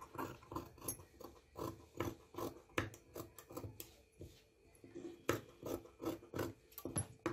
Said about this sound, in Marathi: तर इथे म्हणजे कट करायचं आहे आणि कट मारायचे आहेत गळ्याला।